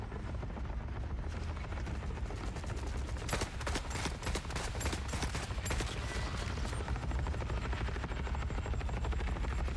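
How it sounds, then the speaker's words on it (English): Helicopter rotor in the Forever Winter video game beats steadily and loudly throughout, with a burst of rapid gunfire-like cracks in the middle over a constant low rumble. "It's a new helicopter sound, Tim."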